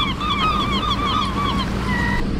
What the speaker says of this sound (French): J'entends des jet skis passer au loin, sur les petites vagues, à la mer.